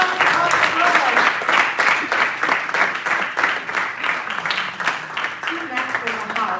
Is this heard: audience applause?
yes